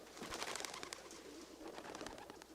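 Pigeons kept for racing make soft cooing and fluttering sounds, a faint, close, busy mix of bird noise with no voices.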